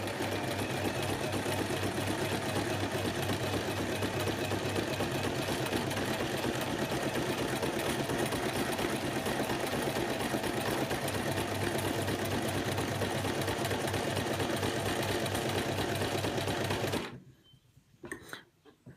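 A sewing machine runs steadily and loudly for about seventeen seconds, free-motion stitching web lines on a sugar skull pincushion, then stops abruptly, leaving faint handling noise.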